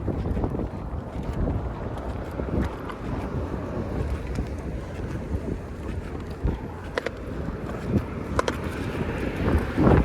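Gusty wind buffets a microphone on a street walk through Toronto's Forest Hill and Deer Park neighbourhood, a loud, continuous low rumble that swells in rough bursts with no talking.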